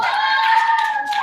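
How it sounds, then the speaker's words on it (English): A short, dense burst of applause, with many hands clapping together in a steady wash of sound. "let's give Hannah and Annika a round of applause"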